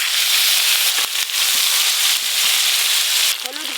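Ground spice paste hits hot oil in a kadai with a loud, dense, continuous sizzle and crackle up close. A few sharper pops break through, and a voice starts faintly near the end.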